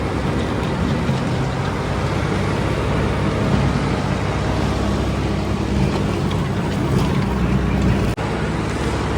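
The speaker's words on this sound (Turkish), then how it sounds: "T360B traktörümüz" Holland T360B tractor with a hay machine, its engine running loud and close in a steady, unbroken roar, briefly cutting out for an instant near the end.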